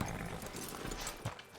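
Horse hooves in the video game Red Dead Redemption 2 clop quietly at a walk in a frontier town near a sheriff's office, soft, uneven steps under a low ambient bed.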